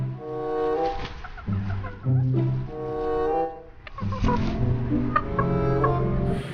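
A pair of chickens cluck and call loudly up close, repeated tonal clucks and squawks in irregular bursts with brief pauses between them.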